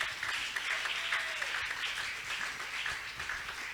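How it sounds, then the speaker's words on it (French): A church congregation applauding loudly and continuously at an inaugural worship service, a dense close wash of clapping with no pauses. "Acclamons le Seigneur très fort."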